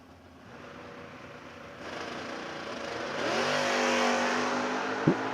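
A drag race car's engine revs at the starting line, its throttle worked hard. A close, loud growl climbs steadily in pitch and volume over several seconds, ending in a sharp pop.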